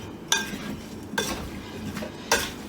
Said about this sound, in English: Just gonna grab a spoon and give those a good stir